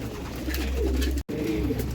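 Soft, low bird cooing repeats close by with a brief dropout in the middle, then carries on.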